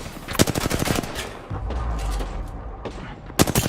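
Rapid automatic gunfire in an Apex Legends professional match (ALGS EMEA Winter Circuit Playoffs), with loud bursts of repeated shots at the start and again at the end and a low rumble between them.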